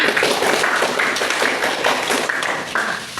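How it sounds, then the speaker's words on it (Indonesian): Classroom students clapping for a classmate, a short burst of brisk, fairly loud applause from a small group that continues steadily throughout. "tepuk tangan"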